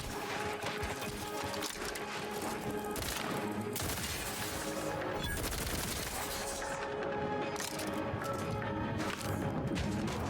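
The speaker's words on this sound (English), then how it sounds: "Lay down fire." Sustained gunfire in The Outer Worlds 2 on PC, rapid overlapping shots and crashes filling the whole stretch, loud and continuous with brief mechanical clatter.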